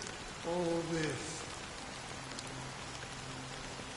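Steady rain falls from the video game Honkai: Star Rail, a soft even wash throughout, with a brief voice speaking early on.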